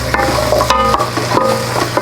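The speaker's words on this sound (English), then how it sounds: "Let's stir it." Leeks frying in a pan for a white root vegetable and cauliflower soup, stirred with steady scraping and soft knocks over a continuous loud sizzle, close up.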